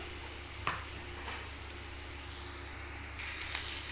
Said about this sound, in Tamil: வதங்குற அளவுக்கு எண்ணெய் ஊற்றிக்கலாம் இதில் வெங்காயத்தை போட்டு நல்லா வதக்கிக்கலாம்